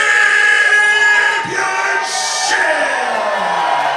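Sold-out crowd at a Freelance Wrestling singles championship bout in the Logan Square Auditorium, steady loud roar of cheering, whoops and yells filling the hall throughout, with a brief dip midway.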